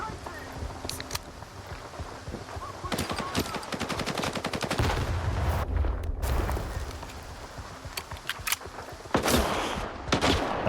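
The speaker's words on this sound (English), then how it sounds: "It's in single fire, but it's auto firing?" Rapid automatic weapon fire in S.T.A.L.K.E.R. 2, a gun set to single fire yet shooting automatically: long dense bursts of close, loud shots with pauses between, plus heavier rumbling impacts and a voice talking over parts.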